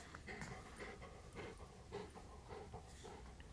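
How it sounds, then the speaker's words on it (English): A big dog pants in quick, soft breaths with faint occasional whimpers, close up and quiet, with low background noise. "He's a big dog."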